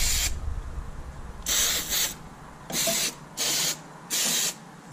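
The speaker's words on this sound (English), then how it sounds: "what he suggested is just spray in there once in a while" Lubricant sprays onto a snowblower chain in five short, close hissing bursts of about half a second each, with quiet pauses between.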